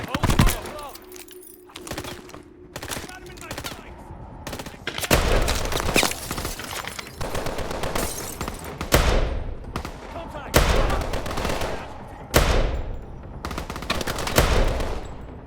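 Gunfire in a Call of Duty: Advanced Warfare match comes in loud bursts of rapid automatic fire and single cracks, with short gaps between volleys, heavy and close, while a player's voice talks over it at times.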